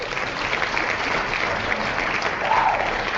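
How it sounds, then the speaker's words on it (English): Applause sound effect, a continuous crackling wash of many hands clapping at moderate level, steady throughout with no voices over it. "They're applauding that I can actually say that in a straight face."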